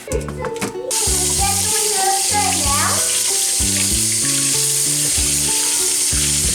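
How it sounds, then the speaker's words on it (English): Cucumbers are rinsed in a small strainer under a running tap, a steady loud rush of water that starts abruptly and continues with light music playing underneath. "I'm gonna wash the cucumbers"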